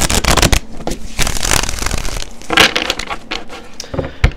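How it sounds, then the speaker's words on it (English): Rapid crisp riffling of tarot cards, several quick bursts of shuffling close by with brief pauses between them. "let's just give it one more shuffle"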